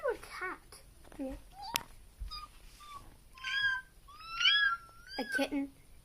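A person imitates a cat with a string of high, wavering meows, some short and some drawn out, broken by quiet gaps and brief child-like vocal sounds.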